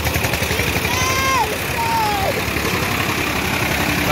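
Farmtrac and Eicher tractor engines work together to pull a sugarcane trolley stuck in a field, giving a steady, loud, rumbling diesel drone with a revving tone. Voices can be heard shouting over the engines.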